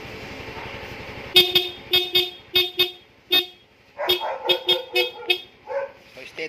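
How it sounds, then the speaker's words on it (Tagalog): A Yamaha Mio 125 motorcycle horn honks in a quick series of short, loud blasts nearby, with a low idling hum underneath and no talking. "Kaya busina mo, sir."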